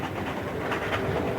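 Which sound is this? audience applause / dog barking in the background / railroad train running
railroad train running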